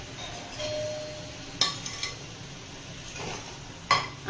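Fried okra is stirred into a yogurt curry in a pan, with a few sharp metal clinks and scrapes of a spoon against the pan spaced out over quiet, low cooking noise.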